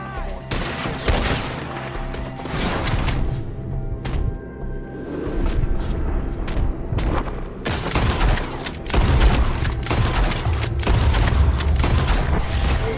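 A Red Dead Redemption 2 shootout: rapid, repeated gunshots crack and boom in dense bursts, with scattered single shots between volleys and shouting voices mixed in.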